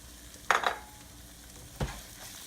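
Spoon stirring salt and pepper into a pot of lobster bisque, two brief scraping clinks about a second apart over a faint background sizzle, close by and without voices.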